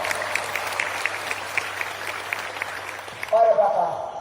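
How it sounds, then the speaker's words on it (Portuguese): A church congregation claps in applause, a steady crowd patter lasting about three seconds before cutting off as a voice begins speaking. "Dá uma salva de palmas."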